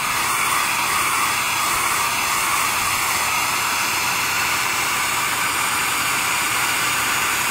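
A steady, loud blowing whoosh of a hair dryer heating shrink wrap on a cut internet/TV cable line runs continuously, with a broad airy hiss and faint wavering tones on top.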